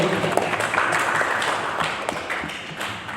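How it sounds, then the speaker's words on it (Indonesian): An audience clapping on cue, a short burst of scattered hand claps and taps indoors, moderately loud and fading slightly. "tepuk tangan"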